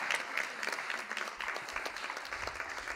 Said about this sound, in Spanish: Un aplauso para Chuchi.